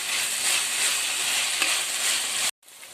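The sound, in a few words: onions and tomatoes sautéing in a pan for egg biryani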